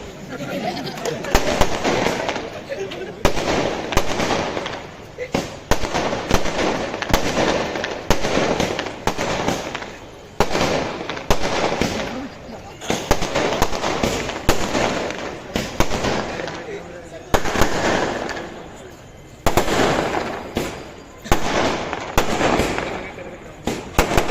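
Fireworks bursting repeatedly outdoors at an election rally in Solapur, a rapid string of loud cracks and pops going on throughout, with crowd chatter and voices underneath.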